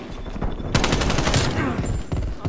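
Rapid bursts of AK-74U gunfire in a video game, loud and close, a dense rattling fusillade with brief pauses between volleys.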